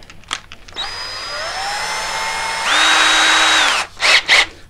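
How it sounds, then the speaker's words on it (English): A single flute counterbore bit cuts the crown of a rifle barrel, a loud, close whining spin that rises in pitch partway through, then stops, followed by a few short knocks. "Next I'm just going to take a counterbore bit. This is a single flute counterbore bit."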